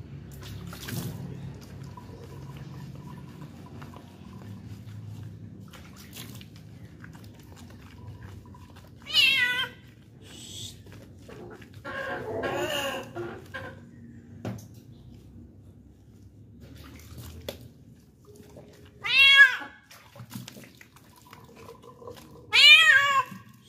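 Several distinct cat meows ring out against a quiet, low background hum, spaced apart with long pauses between the cries.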